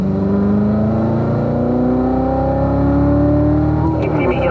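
On the track at Spring Mountain, a race car engine pulls hard as the throttle is squeezed, its loud rising drone climbing steadily in pitch, with a brief click of a gear change near the end.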